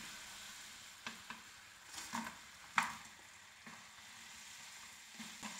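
Fried chicken pieces for chicken 65 being stirred into a yogurt mixture in a pan, a soft sizzle broken by several sharp scraping and clinking spatula strokes, faint and close.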